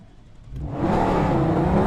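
In the video game BGMI, a vehicle starts quiet and then surges as it drives off, its engine rising to a loud, sustained revving whir.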